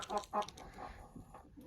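A white silkie hen gives a few short, close clucks in quick succession, then quieter soft murmuring follows with nobody speaking.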